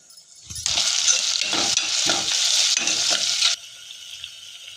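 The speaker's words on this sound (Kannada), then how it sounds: "ಶುಂಠಿ ಬೆಳ್ಳುಳ್ಳಿ ಪೇಸ್ಟ್ ಹಾಕ್ಕೋತಾ ಇದ್ದೀನಿ, 1 ಸ್ಪೂನು." Ginger garlic paste sizzles loudly in a hot pan for a mutton chops sukka, a steady bright frying hiss with a few stirring clinks, then the sizzle drops away near the end.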